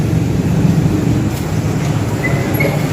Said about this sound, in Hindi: और ये हमने एंटर किया रेलवे स्टेशन में।